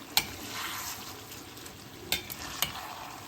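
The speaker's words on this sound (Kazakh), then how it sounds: "Енді қазір осыны тағы да бір 2 минут су құймай осылай қуырып аламыз." Pilaf ingredients frying dry in a pot with no water added: a steady close sizzle with three sharp stirring scrapes of a spoon against the pot, no voices.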